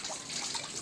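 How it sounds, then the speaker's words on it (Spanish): Water rushes steadily through a partly opened valve on a Reynolds experiment apparatus, a continuous hissing flow heard close and alone for under a second. "ahora vamos a abrir un poquito más la válvula"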